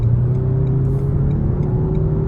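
A 2019 Renault Megane 1.3 TCe with EDC automatic gearbox hums loudly from inside the cabin under acceleration, a steady engine drone with a slowly rising tone and no talking.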